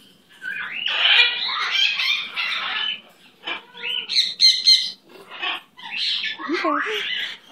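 Gonzo, a pet bird, gives shrill squawks and chirpy calls in short bursts near the microphone. A person's voice is mixed in between the calls.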